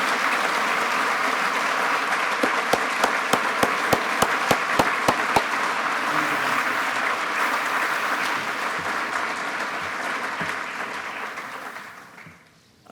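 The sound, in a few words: audience applause for mini-grant recipients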